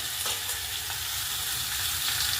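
Tempering for vegetable upma sizzles and crackles steadily in a hot pan, a dense, continuous frying hiss heard up close with no talking.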